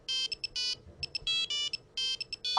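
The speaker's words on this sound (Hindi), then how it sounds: "राजू का फोन आ गया" A phone ringtone plays in repeated bursts of bright melodic tones separated by short gaps, fairly loud and alone with no talking, cut off by a brief click at the end.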